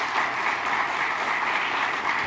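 Conference attendees at a plant-forward culinary summit give a round of applause for Chef Kyle of SingleThread Farm-Restaurant-Inn, a dense, steady wash of many hands clapping at even loudness throughout, with no voices over it.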